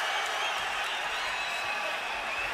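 A boxing arena crowd gives a sustained ovation, a dense continuous roar of cheering and applause heard from amid the audience.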